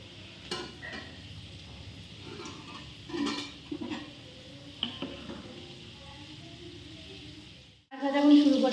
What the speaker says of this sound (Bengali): আমি এখন আলুটা ভাজি